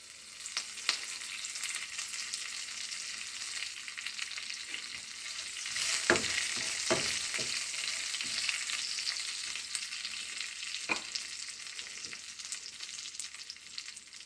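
Dried red chillies and curry leaves frying in oil for a radish and taro curry, a continuous close crackling sizzle punctuated by a few scraping stirs of the spoon, steady and moderately loud with no voices.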